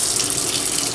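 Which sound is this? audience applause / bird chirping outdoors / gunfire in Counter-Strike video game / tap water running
tap water running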